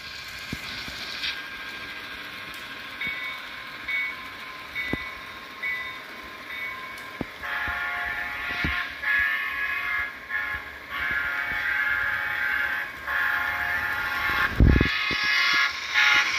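An HO scale Intermountain FP9 diesel model locomotive with DCC sound runs steadily, a continuous engine drone with rumbling wheels and clicks, rising in intensity midway with a horn-like tone and a brief thump, heard close and alone.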